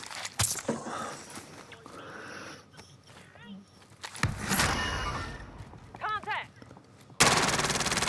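Rapid video game gunfire crackles in bursts over a busy mix of game effects and excited voices, ending in a sustained loud blast of noise.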